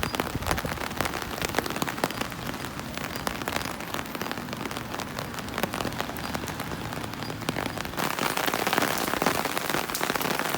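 Steady rain pattering on a hard surface, dense and continuous, growing a little heavier toward the end, with no voices.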